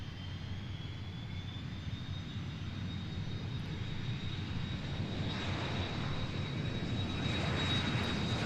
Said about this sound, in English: And this is a Hawker 900 headed to San Diego.